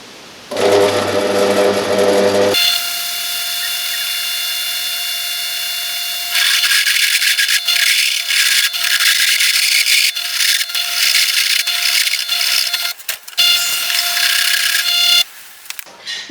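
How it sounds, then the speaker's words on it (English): A power drill whines steadily at high pitch, drilling small mounting holes in metal, running continuously with brief pauses and shifts in load as it bites in, close to the microphone. "I'm just going to drill the little mounting holes first."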